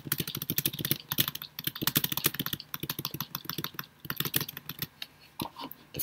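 Computer keyboard keys and the space bar in the game Emily Is Away are tapped rapidly and unevenly, with dense, crisp clicks continuing for several seconds and no voices.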